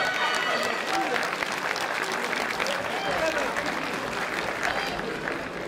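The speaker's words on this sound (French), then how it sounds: "Vos applaudissements pour le docteur Hébert, donc le médecin officiel de la soirée." Audience applause for the official doctor at a boxing event: continuous dense clapping from a crowd, steady and fairly loud across the whole stretch, with voices mixed in.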